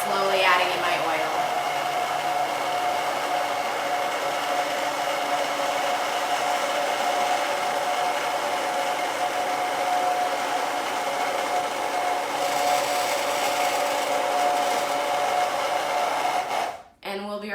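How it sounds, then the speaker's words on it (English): A blender or immersion mixer whirs steadily at a high pitch while it blends chickpea aquafaba mayonnaise and oil is poured in slowly, then it cuts off abruptly near the end. "So I'm going to keep mixing here and keep slowly adding in my oil."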